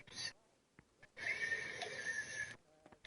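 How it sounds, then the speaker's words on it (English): A horse in the Kingdom Come: Deliverance video game gives a loud whinny lasting over a second. Shorter snorts and game noises come before and after it. "I really wish I could steal this horse."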